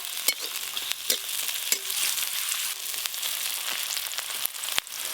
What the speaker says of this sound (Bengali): পেঁয়াজগুলো অর্ধেক ভাজা ভাজা হয়ে গেছে